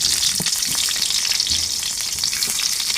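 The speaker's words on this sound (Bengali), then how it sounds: "এইভাবে আমি সব বেগুনগুলো ভেজে নেব।" Round eggplant slices frying in hot oil on a tawa, a loud, dense and continuous sizzle close by with faint crackles and no voices.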